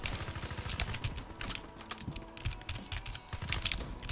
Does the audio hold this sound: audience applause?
no